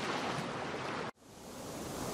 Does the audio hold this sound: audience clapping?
no